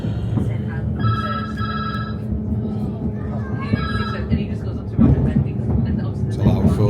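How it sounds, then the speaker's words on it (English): A loud telephone bell rings in repeated bursts near a railway line by Manchester Victoria, heard amid steady background rumble and people talking. "It's a loud phone, is that?"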